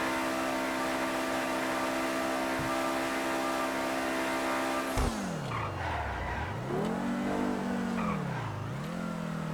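BMW M5-style exhaust on a car in GTA V, a steady high drone that suddenly drops and then swoops down and up through shifting revs with tire skids, loud and close with no talk.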